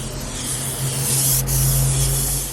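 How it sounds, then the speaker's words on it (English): A close, steady aerosol spray hissing continuously for a couple of seconds onto a sneaker, with a low hum underneath. "Let me spray this bad boy"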